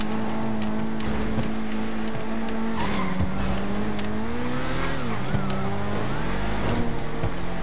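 Engine roar of a Ferrari street race in the video game GTA RP, a steady loud tone rising and falling with gear changes and swerves, with brief tire squeals near the end.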